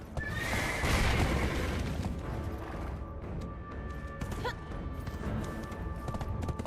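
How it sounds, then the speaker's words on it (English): A summoned horse in the War of the Roses video game gives a loud, drawn-out whinny, then a crash. Clip-clop hooves and scattered game noises follow at a lower level. "I'll summon a horse for you."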